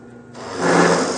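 A plug cutter bores into a wooden workpiece to cut wood plugs, a short rising whirring grind that swells in loudness as the cutter plunges in, close and alone.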